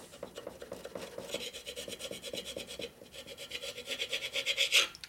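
A carbide cutter scrapes thick powder coat off an aluminum Harley twin cam engine case. The scraping is steady, rhythmic and close, with rasping strokes that grow louder toward the end.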